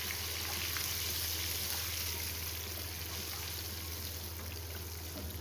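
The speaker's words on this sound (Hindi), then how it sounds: "कुटी लाल मिर्चें, अजवाइन और सूखा धनिया जो मैंने कुटा हुआ, ये डाल के इसको मैं थोड़ा सा फ्राई करूँगी" Crushed red chili, carom seeds and dry coriander frying in oil over a flame, giving a steady soft sizzle and hiss that stays constant and fairly quiet, with no voices.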